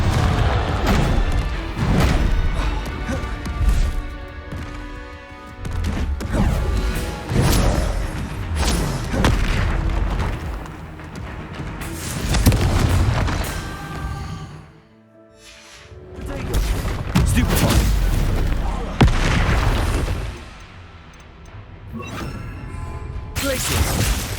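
Fire-curse spells exploding in the Hogwarts Legacy video game, a dense run of loud booming blasts and crashing impacts layered over game music, with a brief lull midway.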